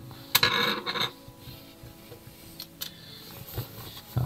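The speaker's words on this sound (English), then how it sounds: "what I tend to do is just file the edge of the screw a little bit" A metal file rasps against the edge of a screw from a Keihin PD41B carburettor on a Honda CB750F, with a few short, close scraping strokes followed by lighter rubbing and small taps.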